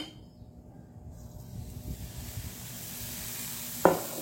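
Tomato dosa batter sizzling on a hot pan with no oil or ghee. A soft hiss builds steadily over a low background, ending in one brief sharp scrape or tap.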